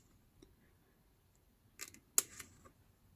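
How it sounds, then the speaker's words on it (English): Scissors snip the corner off a paper mailing envelope made from 12x12 patterned paper for artist trading cards, a few quiet, sharp cuts close by in an otherwise hushed room. "I'm gonna cut off this double crossed corner"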